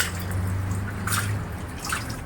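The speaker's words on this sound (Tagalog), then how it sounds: "dinidrain ko na yung tubig kanina" Water drains from a freshwater fish pond during a water change, a steady trickling and dripping wash with a low hum underneath, fairly close and continuous without talk.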